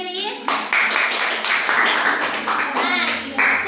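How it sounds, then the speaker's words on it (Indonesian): Classroom students clapping together in bursts of dense applause, with children's voices and talk mixed in over the clapping. "Beri tepuk tangan dulu untuk Sylvia Nilis"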